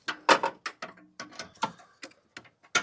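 A ratchet wrench loosening a bracket bolt on a 4-cylinder Honda CR-V engine during a serpentine belt replacement, giving sharp, close, rhythmic clicking bursts in quick runs with short pauses between strokes.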